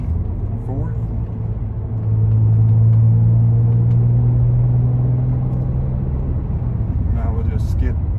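A 2008 BMW 328i engine drones in the cabin and its pitch rises into a louder, sustained hum during a double-clutch downshift to fourth, with someone talking over it.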